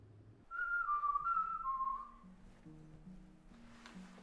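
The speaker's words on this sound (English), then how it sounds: "It's a whistle I like to do, let people know that I'm nearby." A person whistles a short signature call of several clear, sliding high notes, followed by softer, lower tones, fairly close and with no talk.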